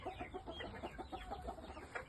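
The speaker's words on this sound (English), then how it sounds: "I'm going to show you a trio of Koshamos I'm keeping back for myself" Clucking from a trio of Koshamo game fowl, a Shamo-type breed including a young pullet about a year old, a busy run of close, repeated short calls with an overlapping bird or two, fairly faint overall.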